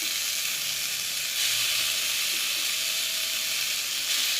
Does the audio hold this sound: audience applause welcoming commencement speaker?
no